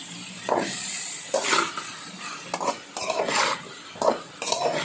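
Onion, tomato and vegetables sautéing in a pan for vegetable biryani, heard as repeated stirring scrapes and clatters of a utensil against the pan over a low background hiss, with no talking.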